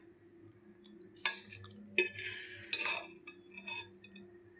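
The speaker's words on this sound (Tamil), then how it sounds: "நம்ம இப்படியே கிளறி விட்டுட்டு ஆற விட்டு உங்களுக்கு நான் காட்டுறேன்" Roasted ottu maavu flour is stirred in a metal pan with a spoon, giving soft scraping and a few light clinks and taps, quiet and close, with no talking.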